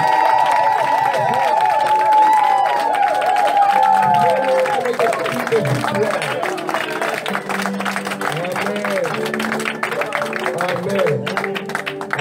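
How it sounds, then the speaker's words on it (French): Church congregation at a prophetic conference applauds and cheers for Jesus, a continuous loud wash of clapping blended with voices, music tones and crowd noise throughout. "Est-ce que quelqu'un peut donner une acclamation à Jésus?"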